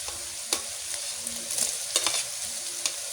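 Vegetables stir-fried in a pan while cooking tortang macao, a steady broadband sizzle with repeated scraping and stirring clicks from a utensil against the pan, close and continuous with no talk.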